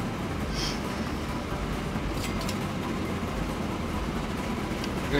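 A train running in the video game Train Fever gives a steady, even rumble that holds through the whole stretch, with a couple of faint clicks on top and no talk.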